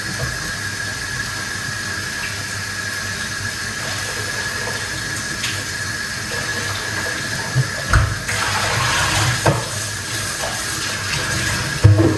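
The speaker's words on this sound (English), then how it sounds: "we are going to wash off our ingredients, get them organized" Running water from a tap washes cooking ingredients in a kitchen sink, making a steady, moderately loud flow with brief splashes and clatter near the end.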